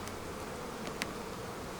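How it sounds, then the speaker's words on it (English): Angry honey bees buzzing around an opened hot beehive during fall feeding, a faint continuous drone with a few individual bees passing closer. "I've angered a lot of bees"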